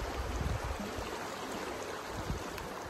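A small river flows beside a campground, a steady close rush of running water with no clear pauses.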